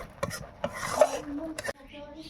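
A spoon scrapes and stirs thick lentil paste in a metal cooking pot, with several short, quiet clinking strokes, followed by a faint voice near the end.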